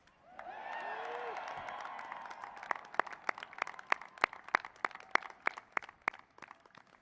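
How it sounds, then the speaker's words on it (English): A graduation audience at the U.S. Air Force Academy applauds a fellow cadet, beginning as a soft crowd murmur and then thinning into sparse, distinct, spaced claps heard at a distance. "Would you all just give a round of applause to a fellow cadet"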